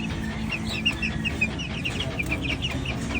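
Three-week-old Sweater gamefowl chicks cluck and peep continuously in a brooding pen, many small high calls overlapping at a steady close distance over a low background hum.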